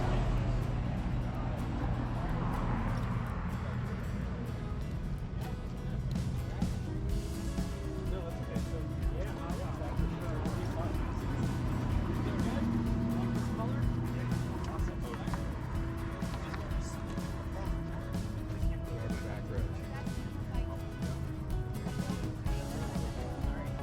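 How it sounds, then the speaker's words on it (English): Royal Enfield Super Meteor 650 motorcycle out on a ride, with a steady engine drone and wind rush mixed with road noise, continuous and fairly loud, while someone talks over it. "I'm going to take this Royal Enfield Meteor 650 for a spin"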